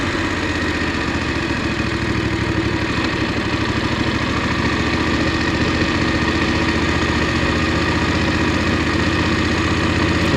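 A Voge 900 DSX motorcycle engine runs at low speed during a slow riding test, a loud, continuous, even drone with a steady mechanical rumble and no breaks.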